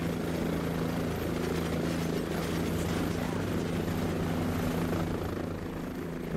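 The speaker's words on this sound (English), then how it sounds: "What's this chopper I hear? Very loudly." A helicopter in the video game Cepheus Protocol roars loudly and steadily, its rotor thrum and engine drone continuous and close, with no gaps and no talking.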